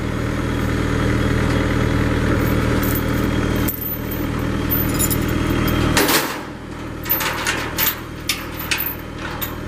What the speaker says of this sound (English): So all you're doing now is just chaining the ramp here.